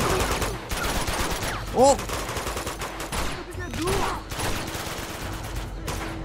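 Bursts of gunfire in the video game Uncharted 2: Among Thieves, rapid shots rattling almost continuously for several seconds, with a voice exclaiming briefly over the shooting.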